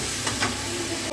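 Potatoes and saag greens stirred together in a frying pan, giving a steady close sizzle with soft scraping strokes of the spoon over about a second.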